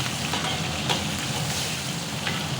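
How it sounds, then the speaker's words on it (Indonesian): Large chilies and kaffir lime leaves stir-frying with spices in a pan for Madiun pecel seasoning, a steady close sizzle and crackle running throughout with occasional stirring scrapes, no voices. "kita tumis sampai sedikit layu untuk cabai besarnya"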